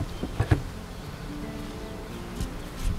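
Honey bees buzz around an open beehive in spring, a constant close insect drone with a few soft knocks and rustles from handling the hive.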